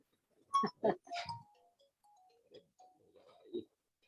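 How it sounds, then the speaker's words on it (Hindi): A short electronic phone ringtone chirps in a few quick bursts, followed by softer melodic tones, fairly quiet against a silent background. "उदाहरण दिया और फोन आ गया।"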